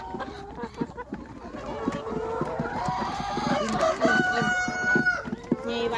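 Several laying hens cluck and squawk close by while a rooster crows loudly, with busy overlapping calls throughout.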